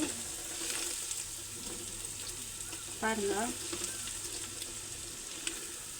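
Onion, mint, coriander, chilli powder, coriander powder, mutton masala and biryani masala fry in a pan with a steady, close sizzle throughout, broken by a brief stir around the middle.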